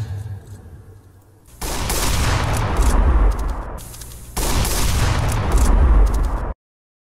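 Two long bursts of CS:GO gunfire, each lasting about two seconds, loud and dense with sharp repeated cracks and low booms, set apart by a quieter gap and ending in sudden silence.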